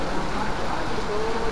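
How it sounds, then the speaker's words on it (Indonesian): Rain and wind outdoors give a continuous broadband wash of hiss and rumble with no clear breaks, fairly loud and steady throughout. "Jadi hujan angin"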